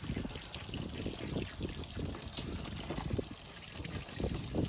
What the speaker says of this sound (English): So let's pour some water in here.